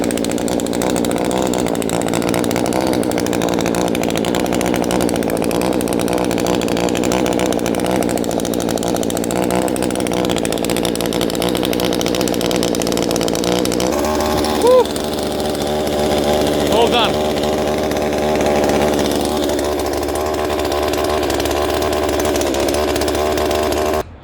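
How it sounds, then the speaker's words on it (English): Chainsaw cutting branches from a pair of 20-year-old apple trees during heavy pruning, a loud, continuous engine whine held for the whole stretch, with the pitch shifting partway through as the saw loads and eases. "So the chainsaw's next."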